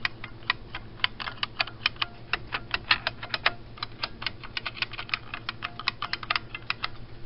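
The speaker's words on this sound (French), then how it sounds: "c'est un clavier mécanique à ressort" Brisk, irregular clacking of keys on a 1988 IBM Wheelwriter typewriter's spring-type mechanical keyboard, each stroke crisp and close, continuing steadily with no voices.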